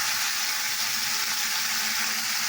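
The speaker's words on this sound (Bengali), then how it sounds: "এটাকে একটু ভালো করে নাড়াচাড়া করে নিচ্ছি" A vegetarian curry fries in a pan with a steady, even, close-up sizzle that holds for a few seconds, with no voices.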